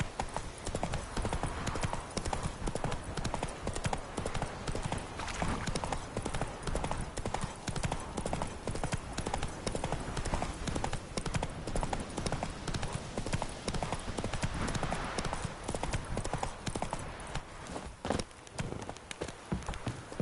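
Roach the horse galloping in The Witcher 3, a rapid, continuous drumming of hoofbeats close up and fairly steady throughout, with faint ambient game sound beneath.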